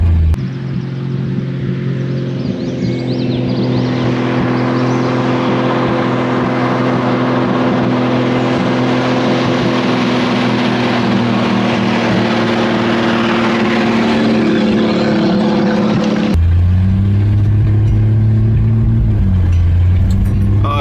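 A rusty 1965 Rambler American car drives downhill with a loud, steady engine drone and road rumble inside the cabin, and the engine note shifts toward the end.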